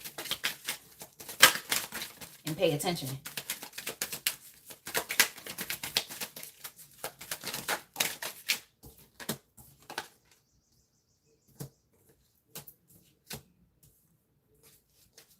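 Tarot cards are shuffled close by in quick, crisp riffling clicks for several seconds, then thin out into a few sparse taps, with a brief spoken phrase.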